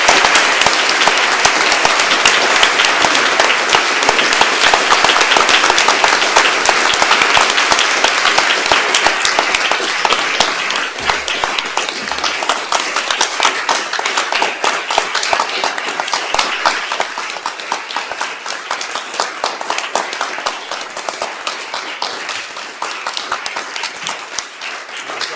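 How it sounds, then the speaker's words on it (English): Sustained applause from an audience at Lord Mance's valedictory ceremony, dense and steady clapping at close range for about twenty-five seconds, easing slightly toward the end with no talk over it. "Can we all give him a round of applause?"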